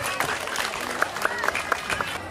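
An audience claps through the whole stretch, a dense patter of many hands with a few sharper individual claps, and a voice is faintly audible beneath it.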